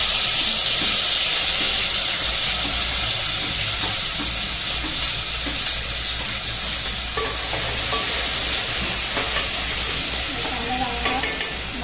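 Onion paste frying in a pan for pav bhaji hisses in a loud, steady sizzle, with stirring scrapes and a few sharp clinks of a utensil near the end.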